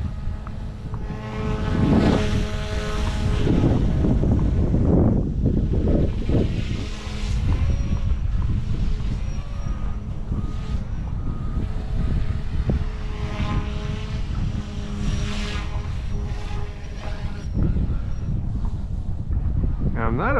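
An Eachine E120S toy RC helicopter flying and spinning fast in yaw, its rotors giving a continuous buzzing whir that swells and shifts in pitch, loud and close, with wind noise on the microphone.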